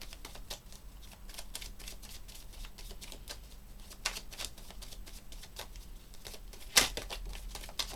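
Tarot cards shuffled and drawn, heard as a close, continuous papery riffling with soft flicks and a couple of sharper snaps as cards are pulled out.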